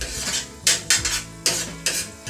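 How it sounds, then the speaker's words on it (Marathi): Onion, tomato and egg bhurji being stirred in a pan, with a spoon scraping and clinking against the metal in several loud, rhythmic strokes over a soft background sizzle. "फक्त तुम्हाला ही हलवत राहायची आहे जेणेकरून ती खाली लागू नये"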